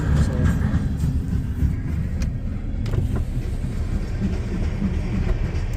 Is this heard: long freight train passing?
yes